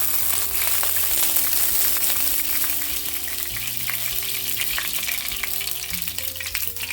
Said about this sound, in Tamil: எண்ணெய் சூடாகிட்டு கடுகு போட்டு வெடிக்க விடுறேன்